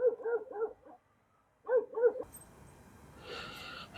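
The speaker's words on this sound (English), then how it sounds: "My dog is going to go after another dog." A dog barks at another dog in two short bursts of several sharp barks with a brief pause between them, then fainter background noise.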